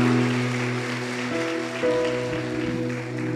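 A church congregation applauds during worship, a steady wash of clapping that carries on under sustained organ or keyboard tones and brief voices.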